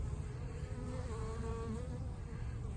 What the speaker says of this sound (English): So here's some bees over here, just my bees in my backyard.